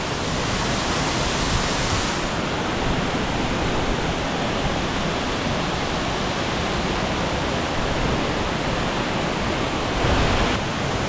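A waterfall on Bali sends out a loud, unbroken roar of falling water, heard close and constant throughout, with no voices.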